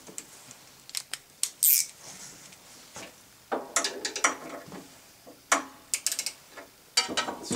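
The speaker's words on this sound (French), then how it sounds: "Hop, un serrage un petit peu plus fort à la clé après." A 10 mm wrench ratchets and clicks while tightening the carburetor bolts on a Tecumseh Vantage 35 engine, producing close, irregular metallic ticks and scrapes with short pauses between bursts.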